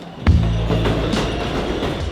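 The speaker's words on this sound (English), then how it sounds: "Trains hang like a canopy over the urban jungle. Each one passing feels like a slow heartbeat." Elevated subway train rolling past in the Bronx, a loud near rumble with rhythmic wheel clatter and a metallic ring, no voices.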